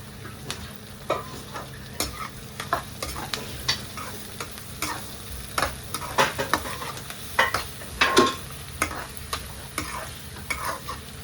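Moong and masoor dal being stir-fried in a pan: a spoon scrapes and knocks against the metal in irregular strokes over a soft, constant sizzle, close and with no voices.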